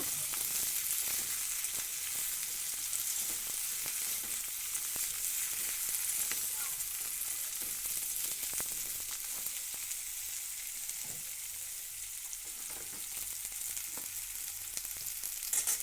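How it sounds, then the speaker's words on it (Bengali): Flat beans and eggplant frying together in a pan, a continuous bright sizzle with quiet scrapes and clicks of stirring, close and steady throughout. "এবার শিম আর বেগুনটাকে একসাথে একটু নাড়াচাড়া করে নেব।"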